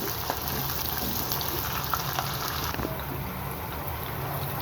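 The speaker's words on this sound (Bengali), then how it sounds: "পেঁয়াজটাকে আমি ভালো মতো ভেজে নিব" Three large chopped onions crackle and sizzle steadily in a hot pan, frying toward crisp golden brown, a dense, even frying hiss with a few scattered pops.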